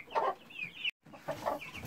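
Young chicks clucking and peeping in a brooder, a burst of chirps near the start and another about halfway through, close and moderately loud, with a brief silent gap between them.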